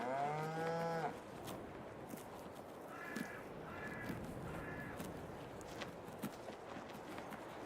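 Cows low loudly and up close in Farming Simulator 22, a long moo opening the scene, followed by softer lowing calls and faint clopping hooves over steady farmyard ambience.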